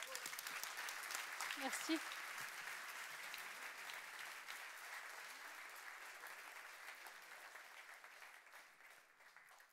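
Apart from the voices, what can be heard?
audience applause welcoming a speaker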